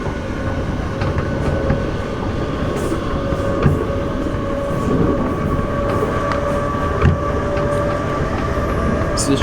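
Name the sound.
Greater Anglia train passing through Stratford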